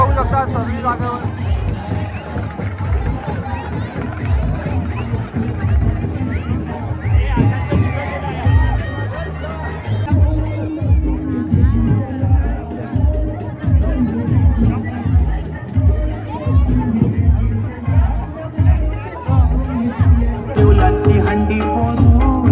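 A festival crowd celebrates Narali Purnima in Versova Koliwada, with loud, dense chatter and voices nearby and rhythmic singing and cheering building over the babble.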